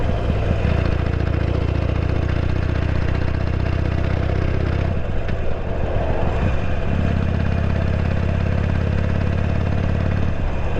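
Harley-Davidson Sportster Iron 883 idling up close, a loud steady lumpy thump with a mechanical clatter, briefly dipping in the middle before settling back into its rhythm.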